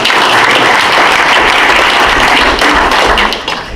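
Loud, close audience applause at a local history talk about Laguna's beaches, many hands clapping in a dense roar with a few thumps, holding steady before thinning out at the end.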